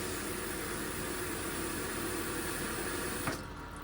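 City tap water from Porterville pours steadily from a faucet at a senior living community, a faint continuous rushing that cuts off near the end.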